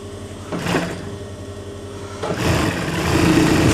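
A sewing machine runs steadily while stitching the shoulder seam of a kameez. It gives a continuous mechanical whir at moderate, close level and grows slightly busier toward the end.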